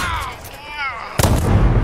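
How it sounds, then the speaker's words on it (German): A sudden loud booming explosion in the video game Deathloop erupts after a brief stretch of game sound effects, its heavy rumble continuing to the end. "Das war mal eine Explosion"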